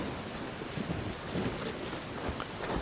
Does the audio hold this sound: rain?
yes